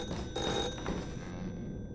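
A telephone rings inside the horror video game The Floor Is Breathing, a steady electronic ring heard over a dense, noisy game background with a few dull thumps.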